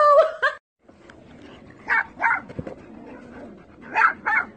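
A dog wearing a hat on a hiking outing gives several sharp, fairly close barks in spaced pairs, with a brief pause between bursts and no talk over them.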